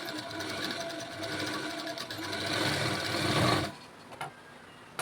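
A sewing machine stitching a blouse runs in a fast, steady mechanical whir for a few seconds, then stops abruptly, leaving a couple of faint clicks.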